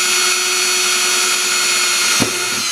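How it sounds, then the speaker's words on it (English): Electric drill boring through the tension pins of a cigar box guitar tailpiece, a steady close whine held continuously for a few seconds, with a small bump near the end. "I'm gonna take my drill bit here and I'm gonna drill down through the center of these"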